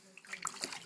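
Plain bathwater splashes and trickles softly as a newborn baby girl is washed in her first bath, with adult voices speaking over the gentle water sounds.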